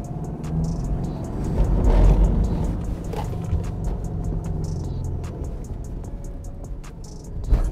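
A Subaru Impreza 2.0 diesel boxer with all-wheel drive drives along with a steady low engine rumble that swells briefly, accompanied by a run of rapid ticking clicks.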